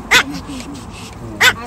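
At a rooftop-tent campsite at Nairn Falls near Pemberton, British Columbia, a dog lets out two sharp, short barks about a second apart over a quiet murmur of background noise.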